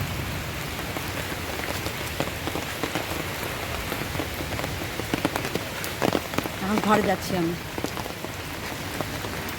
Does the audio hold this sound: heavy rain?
yes